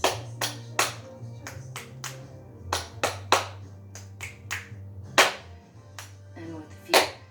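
Crisp finger snaps and hand claps ring out in an irregular rhythm during a stretch and strengthen exercise session, close and fairly quiet over a low steady hum.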